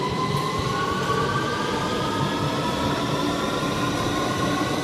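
London Underground Victoria Line train pulling out of the Oxford Circus platform, a steady loud rumble with rising whining motor tones, heard alone throughout.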